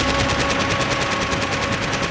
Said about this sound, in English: We exchanged fire on the landing